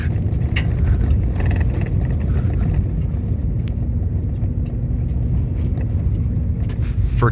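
A truck drives along a road with a Skydio 2 drone following it, giving a steady, loud low-frequency rumble of engine and road noise that continues without a break and has no voices over it.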